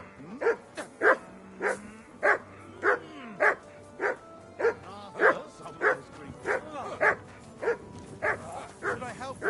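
Dog in the video game Kingdom Come Deliverance 2 barks on command, a steady series of about fifteen evenly spaced, fairly close barks with no talking.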